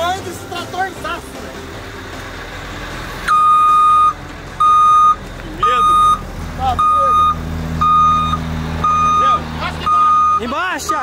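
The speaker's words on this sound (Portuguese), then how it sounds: "olha o tamanho desse trator" A large tractor's engine rumbles close by while its reversing alarm beeps in a regular, repeating pattern, set outdoors at a recovery of a Dodge Ram stuck in mud, with people talking over the machinery.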